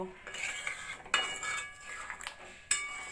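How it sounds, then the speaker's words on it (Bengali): Ghee, garam masala and green chillies stirred together in a pot for a vegetarian aloo dum, with a metal spoon scraping and clinking against the pot in a few sharp, close knocks. "ঘি গরম মশলা কাঁচা লঙ্কা ভালো করে মিশিয়ে নেব"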